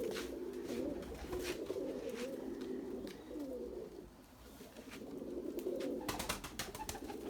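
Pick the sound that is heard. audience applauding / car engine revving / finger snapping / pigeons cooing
pigeons cooing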